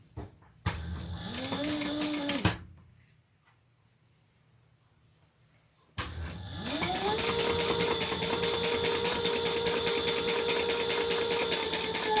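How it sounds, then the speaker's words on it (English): A sewing machine topstitching a splayed-open seam on a small crossbody bag, two close bursts of fast whirring, a short one, a pause, then a longer steady run. "I am going to just splay open my seam and do some top stitching."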